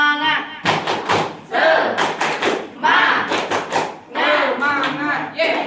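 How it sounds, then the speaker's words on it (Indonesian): A group performs the rhythmic 'tepuk semangat' spirit clap, sharp bursts of clapping in a patterned rhythm with voices chanting between them in a room. "Tepuk semangat."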